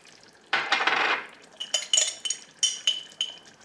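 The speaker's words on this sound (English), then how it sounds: "Give it a stir" Sauce with spicy plum sauce and oregano being stirred in a pan for homemade lasagne: a spoon scrapes softly, then a few light clinks and taps against the pan, close and fairly quiet.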